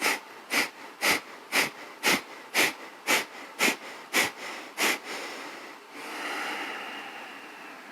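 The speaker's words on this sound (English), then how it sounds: "pumping breath, this one that's known as Kapalabhati" Kapalabhati pumping breath during a hatha yoga session: about ten sharp, forceful exhales through both nostrils in an even rapid rhythm, close and clear, followed by a softer, longer release breath.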